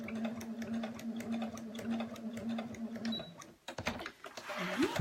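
A sewing machine fitted with a walking foot stitches a tote bag seam, a fast steady mechanical whir with rapid ticking that runs for several seconds, then stops and restarts with a short rising whine, loud and close.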